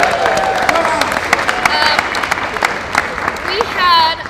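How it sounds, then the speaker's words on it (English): A convention audience claps and cheers in a dense burst of applause while voices and crowd chatter overlap it. "I want you guys to give him a round of applause"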